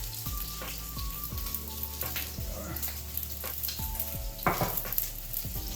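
Bacon sizzling and frying in a pan as it crisps, a steady dense crackle with scattered pops throughout, close and alone with no voices.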